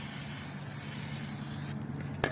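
A spray bottle hisses cleaner onto the wheel of a CSC RX3 machine in a steady, faint spray, ending with a sharp click near the end.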